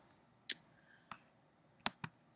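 Crisp, isolated clicks of a computer mouse, four short sharp taps spaced irregularly against near silence, faint and close.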